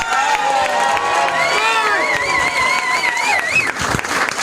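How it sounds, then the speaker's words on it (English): A comedy club audience applauds, cheers and whoops loudly for a comedian taking the stage, a dense sustained wash of clapping with shouts rising above it. "Start applauding right now because this is exciting."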